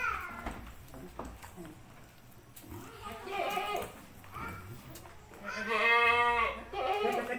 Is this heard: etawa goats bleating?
yes